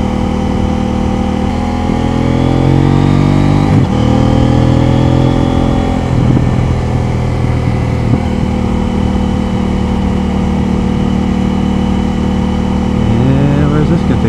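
A CFMOTO Ibex 800T adventure motorcycle riding on a gravel road, its engine droning steadily and rising and falling in pitch with gear changes, under wind noise and talking from the rider.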